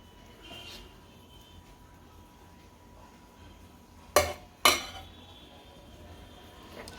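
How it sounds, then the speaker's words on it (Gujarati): Surti locho batter goes into an oiled pan, heard as two sharp metallic clinks of utensil against pan in quick succession, close and clear over a quiet kitchen background. "આમાં બેટર નાખશું આપણે"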